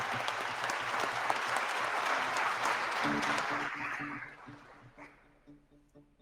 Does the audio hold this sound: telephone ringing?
no